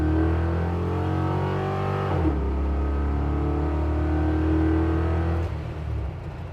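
A restomod 1967 Chevrolet C10 pickup engine revving hard and accelerating to about 70 mph, rising in pitch, then a gear shift drops the tone before it climbs again and eases off.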